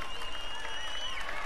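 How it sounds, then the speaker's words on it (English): A crowd cheers in the video game Fortnite, a short burst of clapping and whooping at steady loudness, with a tonal game sound running alongside. "And the crowd goes wild."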